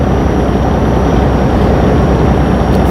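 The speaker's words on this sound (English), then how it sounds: "Thank you for the flyby." An aircraft makes a low flyby overhead, heard as a loud, continuous engine roar and rumble that stays steady across the whole moment, with no voices.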